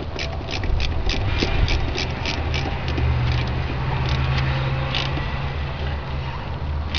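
A hand ratchet tightens the battery quick-disconnect on a 1966 Ford Mustang, giving a quick run of rapid clicks that stops and starts in short bursts over a low background hum.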